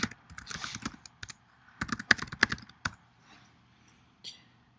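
Close, crisp keystrokes on a computer keyboard as a username and password are typed, coming in quick bursts with short pauses and a final isolated tap.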